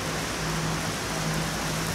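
Steady rain pours onto a tall umbrella-style shelter at a concrete construction site in Donggongon, a dense, even hiss with a faint low hum running beneath it throughout.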